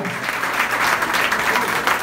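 Sustained, dense applause from an audience at a national-day press conference, a thick continuous wash of clapping, loud and even from start to finish.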